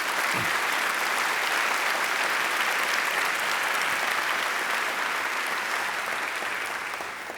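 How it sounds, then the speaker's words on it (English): Large university audience applauding at the 2015 State of the University address, a loud continuous roar of clapping that holds steady and tapers slightly at the end. "we all deserve to give you a big round of applause and thanks"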